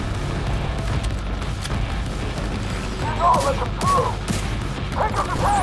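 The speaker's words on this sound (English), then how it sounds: "Blow up these fire barrels if you can" Fire barrels exploding in a co-op video game incursion, a few muffled bursts near the end, each a short crackling blast over a steady bed of combat noise and music.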